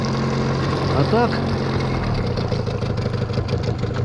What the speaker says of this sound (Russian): Как бы чувствуется мощь мотора.